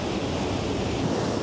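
Ocean waves wash steadily against a coastline, a dense continuous roar of surf mixed with wind rumble, close and loud with no voices.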